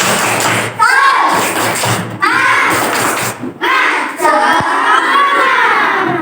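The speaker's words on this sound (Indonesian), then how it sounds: "Kita tepuk semangat dulu. Tepuk semangat." A class of third-grade children in an Indonesian primary school does the tepuk semangat clapping chant, with loud, close, rhythmic claps and shouted voices together in several bursts.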